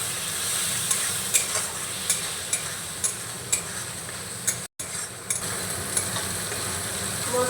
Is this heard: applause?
no